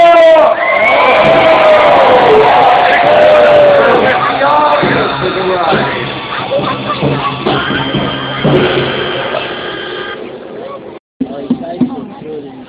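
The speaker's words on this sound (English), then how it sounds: "come on, let's go to the big cheer," A crowd cheers and shouts for gladiator Bella at a gladiator games event in London's Guildhall, a loud, sustained roar with whoops that fades and breaks up toward the end.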